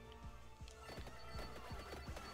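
A mini horse in the Vampire Survivors video game gives a neigh over steady game sound, with repeated hoof clip-clops running through the short stretch.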